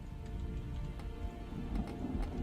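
Rain falls steadily in the video game Terraria, a constant dense patter with scattered sharper drops and a low rumble beneath. No voices.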